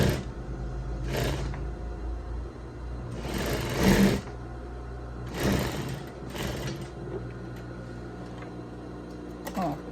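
A domestic sewing machine topstitches over an existing pocket seam on a zippered lab coat, running in several short bursts of rapid whirring with pauses between, fairly close and moderately quiet.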